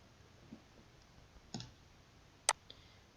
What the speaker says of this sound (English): I just press T on my keyboard.